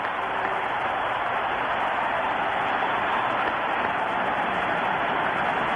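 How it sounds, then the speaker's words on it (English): A stadium crowd gives a standing ovation after Henry Aaron's home run ties Babe Ruth's all-time record, heard in a broadcast recording: a dense, steady roar of cheering and applause that holds at full strength throughout, with no break. "The crowd is up. As you would expect, a standing ovation."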